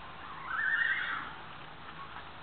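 A horse gives a single whinny with a rising and falling pitch, fairly close, followed by quiet and a short sound at the very end.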